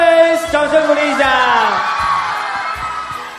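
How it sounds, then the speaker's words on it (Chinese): A birthday event audience welcoming TFBOYS lets out loud, sustained whoops and cheers that rise and fall together and fill the whole moment close up. "掌声鼓励一下"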